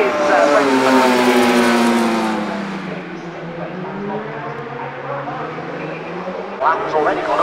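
Race cars at Cadwell Park circuit in a No Limits Racing event, their engines loud and droning steadily as they pass, with a commentator talking over the noise.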